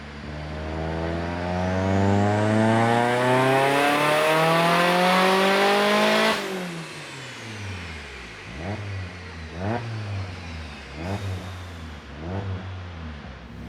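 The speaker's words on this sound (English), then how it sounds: "they make a couple of pulls to test it out before increasing RPM with each pull" Turbocharged BEAMS 3SGE engine in an AE86 drift car on a dyno, revving in a long rising pull to a high peak, dropping off, then several short sharp throttle blips at moderate distance.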